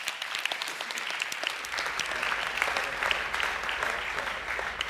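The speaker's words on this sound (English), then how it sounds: "we'll give them a clap again" An audience at a school senior subject selection information evening claps in steady, sustained applause that fills the room without pause.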